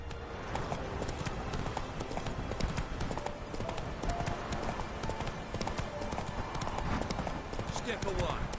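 Steady clip-clop of a galloping horse in The Witcher 3, hooves pounding continuously at close range with some game ambience mixed in.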